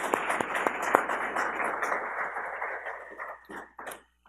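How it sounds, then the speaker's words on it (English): Brief applause from a modest audience at a Washington D.C. conference panel on Eastern Europe, a few sharp claps opening into a short patter of hands that thins out and stops within seconds. "Just quick applause."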